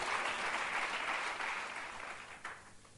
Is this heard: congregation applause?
yes